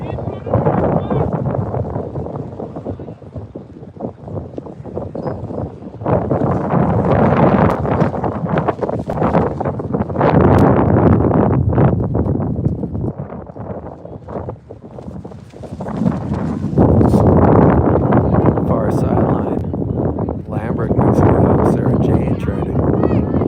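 Wind gusts across an outdoor high school soccer field, rumbling and buffeting the microphone in surges, loud and close, with a voice talking over it much of the time.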